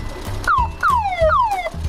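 A novelty tuning-style car horn and siren on a Renault 4L rally car sound three times in a row, each a loud, close, falling whoop-like wail, repeating at a steady rhythm.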